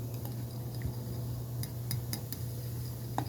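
Thick homemade skin salve is stirred in a container, producing soft squishy stirring under a low steady hum, with a few faint clinks of a utensil against the vessel.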